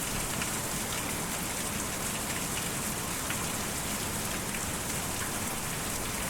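Steady, dense rainfall in the video game Kentucky Route Zero, a constant broadband patter on surfaces that holds evenly throughout without a break or any voices.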